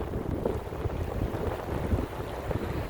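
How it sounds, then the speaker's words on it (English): Strong gusting wind roars across the microphone during a snowstorm in downtown Chicago's Streeterville, a steady loud rumble and buffeting with no voices. "Hopefully you can hear me because it's very windy right now."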